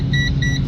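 A gas leak detector sounds a loud, rapid, high electronic beep in pulses close to the microphone, over a low background hum.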